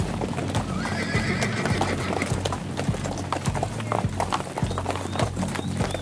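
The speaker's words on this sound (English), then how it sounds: "The horses make their way back into the stables by daybreak" Horses' hooves clip-clop steadily at a trot on a dude ranch at daybreak while a horse whinnies, with a busy, continuous outdoor background.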